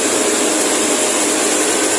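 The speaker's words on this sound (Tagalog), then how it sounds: "Ayan po makina ng gilingan ng palay." A large rice mill machine, driven by what looks like a truck engine, grinds palay with a loud, steady roar and whine that holds unbroken throughout, with no talking.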